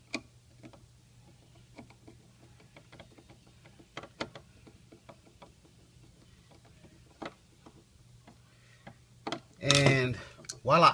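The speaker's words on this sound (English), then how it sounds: "Put the other screw in place. Screw it down." A screwdriver driving a screw into a Segal SE15726 single cylinder deadbolt lock makes faint, close, irregular metallic clicks and ticks, with a short burst of speech near the end.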